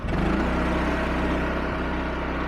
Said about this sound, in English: Now we'll turn the throttle up from 0 all the way to 100